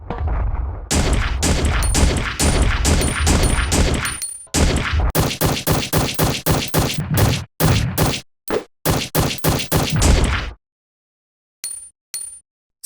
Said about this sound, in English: So, only 23 shots from the Cougar 8000 to take down Mr. X.